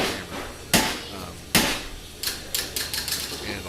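An air-powered hammer fed by a compressor strikes in sharp, loud blows, two heavy hits spaced apart, then a quicker irregular run of lighter strikes.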